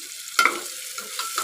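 Masala and tomatoes sizzle in a pan as a spoon stirs and scrapes, a soft steady frying hiss with a brief clatter near the start, close by and without talk.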